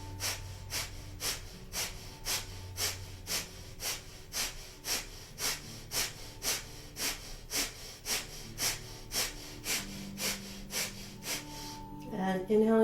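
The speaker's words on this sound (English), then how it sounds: "Powerful breath of fire here." Breath of fire in a Kundalini yoga session: quick, forceful rhythmic exhalations through the nose, about two per second, puffing evenly and close by. A deeper inhale comes at the end.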